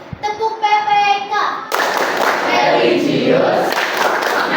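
A lively round of rhythmic group hand clapping at a school coaching session in Indonesia, loud and close, starting after a brief chanted voice in Indonesian and continuing steadily to the end.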